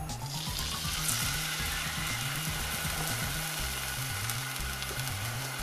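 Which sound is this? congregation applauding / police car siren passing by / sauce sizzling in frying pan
sauce sizzling in frying pan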